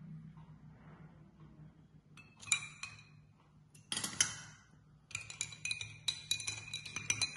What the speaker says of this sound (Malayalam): ice cube